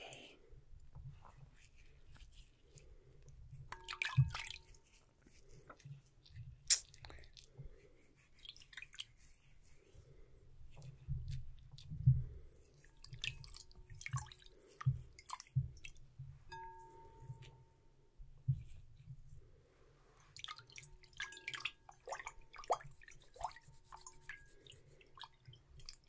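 Hair being washed with warm water in a salon role play: soft, close squishing and dripping with intermittent wet rubbing sounds, quiet and intimate.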